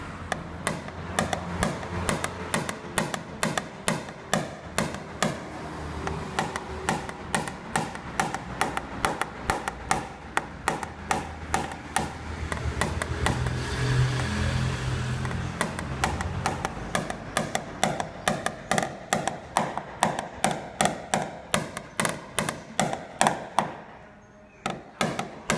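A small hammer taps a dented car body panel repeatedly during dent repair, a steady, quick rhythm of sharp metal clinks, close and fairly loud, pausing briefly midway before resuming.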